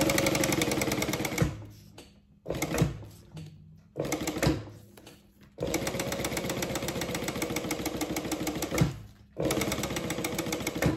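A home sewing machine running a quarter-inch seam, its fast mechanical whir coming in several bursts of needle chatter separated by short pauses, close and loud.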